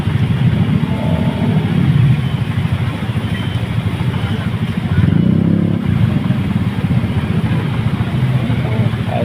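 A motorcycle with its exhaust wrapped in plastic churns steadily through floodwater, with splashing and clatter, loud and close for the whole stretch, and voices faint in the background.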